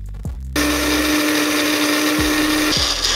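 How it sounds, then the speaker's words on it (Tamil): A mixer grinder whirs loudly and steadily as it blends green chutney with curd into a paste, starting up after a brief pause and running at an even, high-pitched drone. "இப்போ இது நல்லா பேஸ்ட்டாக அரைச்செடுத்துக்கலாம்."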